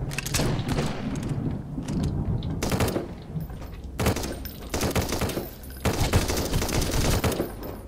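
Gunfire in the survival game Sunkenland comes in loud, dense automatic bursts with short gaps between them, heavy booming shots mixed with mechanical clatter, close and continuous with no speech.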